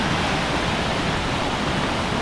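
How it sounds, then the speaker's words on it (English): A waterfall crashes down on the Reed Lakes trail, a dense, continuous roar of falling water, loud and unbroken for the whole brief stretch. "You can sit right at kind of the edge of the waterfall and watch it crashing down."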